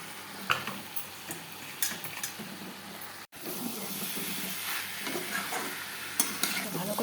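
Shrimp and jackfruit frying in oil that has begun to separate, a continuous close sizzle and hiss with occasional stirring scrapes and clicks, with no voices.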